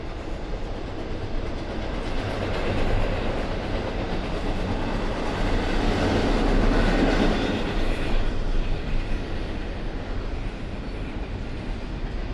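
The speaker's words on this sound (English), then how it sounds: "I think I was told that these trains are hybrids." Diesel series hybrid train passing close by, a loud sustained rumble with rhythmic clickety-clack of wheels that swells to a peak midway and then eases off.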